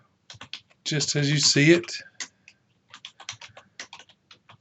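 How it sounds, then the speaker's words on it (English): Sparse clicks of typing on a computer keyboard, a few keystrokes at a time, following a short stretch of someone speaking nearby. "So we'll type"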